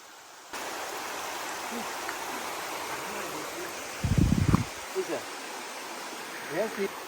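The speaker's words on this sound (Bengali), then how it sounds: "ভাবছিলাম এটাই মেইন ঝর্ণা বাট এটার উপরে উঠলে আর একটা ঝর্ণা পাওয়া যাবে" A waterfall stream on the Madhukhaiya trail rushes with a constant, even hiss of flowing water, and a few brief voices break in partway through.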